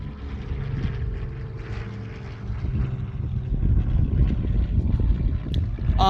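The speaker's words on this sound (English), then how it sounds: "P-40 now inbound from airshow left" A P-40 warbird propeller plane flies over at an airshow, a rough, throbbing engine drone with low pulsing tones that grows louder as it approaches, heard alone without talk.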